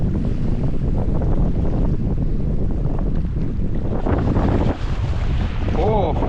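Ocean waves break along a coast in a continuous heavy roar, close and loud, buffeted by strong wind rumbling across the microphone.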